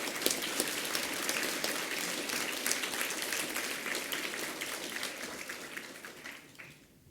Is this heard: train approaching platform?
no